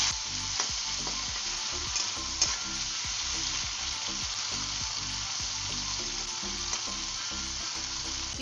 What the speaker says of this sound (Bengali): কড়াইয়ে তেল গরম হয়ে গেছে, আর এই চিংড়ি মাছ আমি এখন প্রথমে ভেজে নিচ্ছি